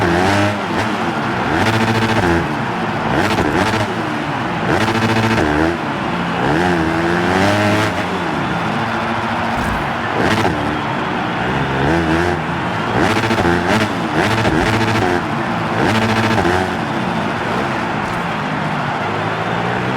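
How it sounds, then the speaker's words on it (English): A Yamaha YZ250F pit bike engine in a supercross video game, screaming loudly and bouncing repeatedly off the rev limiter in rapid buzzy bursts throughout, with no talking. "This YZ250F actually sounds like a real YZ250F hitting the rev limiter"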